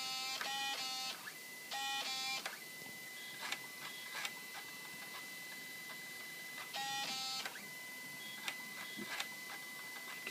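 A floppy drive in a Panasonic Toughbook CF-48 laptop reading while it boots from a floppy disk, giving faint rapid mechanical buzzing bursts and stepping ticks, with quiet gaps between them; no talk.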